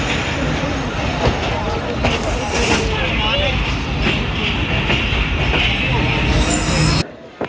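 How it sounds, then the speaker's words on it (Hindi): The Rehman Baba train rolls into Wazirabad Junction with a loud, steady rumble and rattling carriages, close by, under a talking voice, before cutting off abruptly near the end. "ये जी वज़ीराबाद जंक्शन पहुंच गई है ट्रेन हमारी।"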